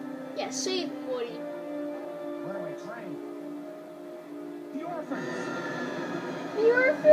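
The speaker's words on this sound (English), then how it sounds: "Runaway train." Runaway train in the Toy Story 3 video game, a steady rumbling rail drone with game effects and music, a voice talking over it throughout and a louder burst near the end.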